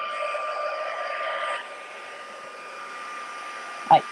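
Heat tool drying faux watercolour paint on a plastic surface blows a steady airy whoosh for about a second and a half, then drops to a quieter hum, ending with a brief clack.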